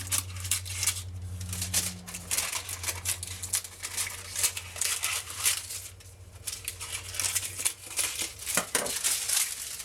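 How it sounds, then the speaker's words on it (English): Scissors snip through aluminum foil trimmed around a figgy pudding lid, giving a quick patter of close cuts and crinkles over a steady low hum, with no voice. "I'm going to use some scissors and I'm just going to trim around it."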